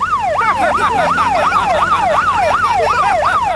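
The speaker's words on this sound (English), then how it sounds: "can we do the siren?" Cartoon car siren wailing in a fast, regular rising-and-falling cycle, loud and close, repeating about eight times with no talking over it.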